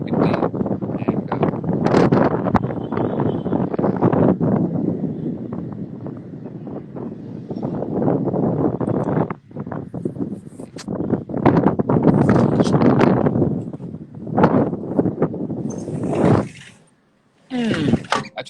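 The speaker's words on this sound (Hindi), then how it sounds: "एक्चुअली बहुत ज्यादा हवा चलती है" Strong wind buffets the microphone outdoors on an evening in Pindi, a loud, rough, continuous rush with gusty surges that drops away briefly near the end.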